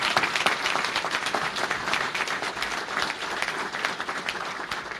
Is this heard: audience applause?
yes